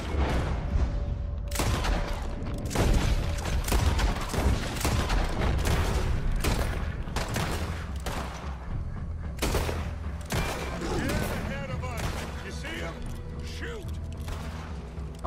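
Gunfire in Red Dead Redemption 2, a long barrage of sharp, loud shots fired in rapid irregular bursts, some clustered like a fusillade, with mechanical clicks and creaks between volleys and occasional talk mixed in.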